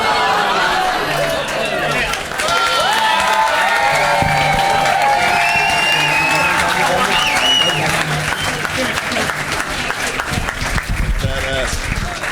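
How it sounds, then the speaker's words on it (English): A crowd at a rap battle world championship keeps up loud applause with cheers and whoops, steady clapping under excited shouting voices throughout. "Folks, keep that applause going."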